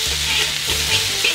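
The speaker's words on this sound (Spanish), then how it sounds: "Y ahora le vamos a echar la carne ahumada." Smoked meat hits a hot pan for Chinese-style fried rice, giving a loud, close, continuous sizzle with stirring scrapes and low rumbles throughout, no talking.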